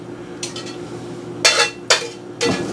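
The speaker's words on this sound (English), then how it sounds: "Mix it all together well" Meat, onions, green peppers and a potato and cheese mixture being stirred in a dish, a few scraping, clinking strokes of a utensil against the bowl, close and otherwise quiet.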